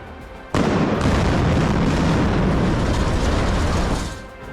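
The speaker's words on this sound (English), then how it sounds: "a road bridge in Germany turned into a firework of steel and concrete in a controlled explosion." A road bridge in Germany, built of steel and concrete, blows apart in a controlled demolition: a sudden loud blast, then a heavy roaring rumble of debris lasting a few seconds before it fades.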